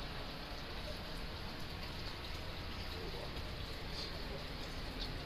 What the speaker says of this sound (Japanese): 雨です。